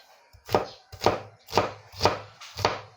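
A knife chops red onion into small pieces on a board in five crisp, evenly spaced strikes about half a second apart, each one close and clear, with no voices.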